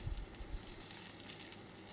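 Five cut dried red chillies and three chopped shallots sauté in hot oil with popped mustard seeds for a lentil tempering, giving a soft, steady sizzle with a few faint crackles and no talk.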